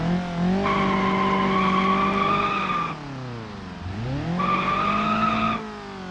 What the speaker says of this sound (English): we can try doing a little skid here, first gear. dump the clutch.